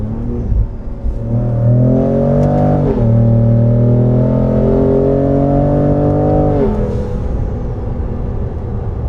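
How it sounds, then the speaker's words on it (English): A replica Shelby Raptor-style pickup truck with a 10-speed automatic accelerates hard, its engine droning and rising in pitch, dropping briefly at a gear change near three seconds and again near six and a half, loud and close. "Let's see what this 10-speed can do."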